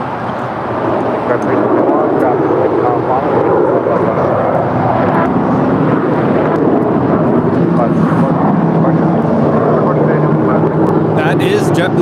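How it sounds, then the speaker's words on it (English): Jet engine roar from an 18-year-old JetBlue Airbus A320 departing LAX runway 25 right, a steady, loud broadband rumble holding throughout with talk over it. "That is JetBlue Airways Flight 972 departing to San Jose, Costa Rica. It's an 18-year-old Airbus A320."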